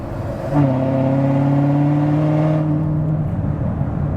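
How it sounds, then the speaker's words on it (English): A Corvette ZR1 sports car engine revs hard with a loud, sustained exhaust roar, then the revs fall away and a few crackling pops follow. "the pops on this car is what really makes it a riot and how loud it is"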